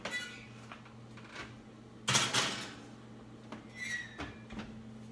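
Quiet kitchen handling as a pan of turkey goes into an oven: a few soft metallic knocks and clatters, with a louder clunk and scrape midway as the oven door and pan are moved, over a faint steady hum.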